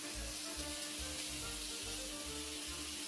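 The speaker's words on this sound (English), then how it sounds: "So all we're going to do is fry the Italian sausage till it's done." Italian sausage, taken out of its casing, frying in a pot, a steady close sizzle with soft pulsing bursts of spatter.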